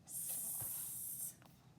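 An aerosol spray can hisses in one steady burst of just over a second, close and fairly quiet, followed by a faint rustle.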